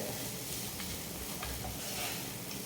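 Cooked rice being stirred and mixed with tamarind puliyodharai powder, a continuous close, soft scraping and rustling texture with faint clicks, no talking.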